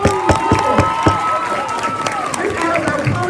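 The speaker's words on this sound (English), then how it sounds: "Let's give our teachers a round of applause." A school crowd at a middle school assembly cheers and claps for its 8th grade teachers, with shouts and whoops over steady loud applause and a few sharp claps standing out near the start.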